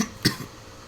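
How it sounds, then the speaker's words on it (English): One short, sharp cough sounds over a low background hum, with a faint second catch just after and quiet afterward. "Oh, coughing."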